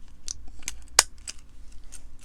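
A Louis Vuitton key holder's metal clasp closes with a sharp, close click near the middle, surrounded by a few faint light rustles and taps of handling.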